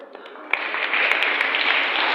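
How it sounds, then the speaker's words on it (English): Students clapping together at a school session, starting with a few scattered claps and swelling into steady, dense applause from a roomful of people. "Just clap for yourself."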